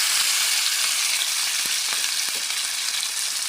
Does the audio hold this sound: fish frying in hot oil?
yes